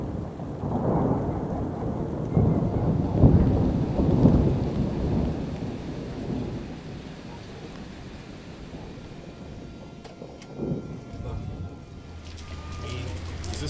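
Summer thunderstorm with heavy rain, heard at a drum and bugle corps gathering: deep rolling thunder swells in the first half over a constant hiss of rainfall, then a fainter rumble later on.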